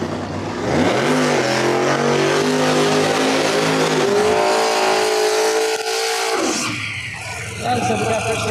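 A no-prep drag racing car launches hard down the strip, its loud engine roaring and climbing through gears before cutting off, with a commentator talking briefly near the end.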